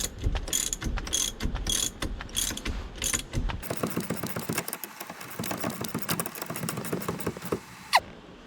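Ratchet tightening on a classic Mopar steering column, rapid clicking bursts of the pawl in quick strokes, close and fairly loud, with a short pause and a sharp clank near the end.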